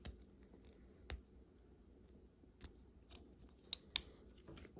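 Pieces of a plastic Classics Optimus Prime toy gun fold out with a handful of faint, sharp clicks and snaps, spaced irregularly against quiet near-silence.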